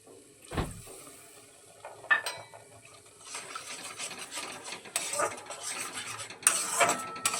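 A spoon stirring chhana and milk in a pan, soft intermittent scraping and clinking close up, with a sharp knock early on and quiet gaps between strokes.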